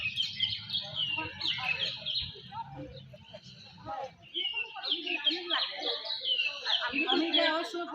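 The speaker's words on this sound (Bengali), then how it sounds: "খালি পাখির ডাকগুলো শুনতে থাকুন।" Birds call outdoors in Shillong with repeated high chirps and short tweets scattered across the clip, over a low steady hum, while people talk nearby.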